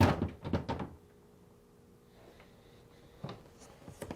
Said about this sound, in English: remove the top drawer by sliding it out and lifting up.